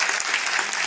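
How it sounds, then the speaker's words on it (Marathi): An audience clapping in welcome at a Ganesh federation gathering, a dense, even wash of applause with no voices. "आणि आमच्या सर्वांच्या वतीने आम्ही टाळ्या वाजवून या ठिकाणी साहेब आपलं खऱ्या अर्थाने आम्ही स्वागत करतो।"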